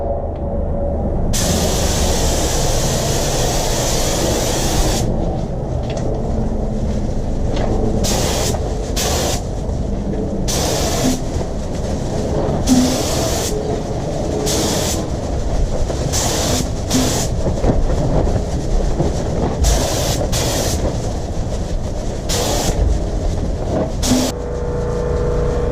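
Spray gun applying metal flake glitter paint to Toyota Cressida fenders, a steady loud hiss running almost continuously with brief pauses between passes, close to the microphone.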